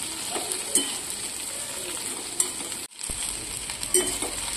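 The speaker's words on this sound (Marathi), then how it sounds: "भेंडी आणि बटाटा घातल्यानंतर हे आपल्याला साधारणपणे 4 ते 5 मिनिटे फ्राय होऊ द्यायचं आहे" Okra and potato stir-frying together in a pan for dhaba-style aloo bhindi, a steady sizzle with periodic spatula scrapes and a short drop in sound midway.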